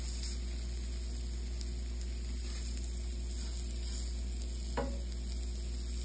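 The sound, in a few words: meatballs frying in a pan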